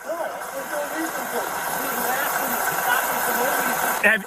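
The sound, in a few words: loud car engine idling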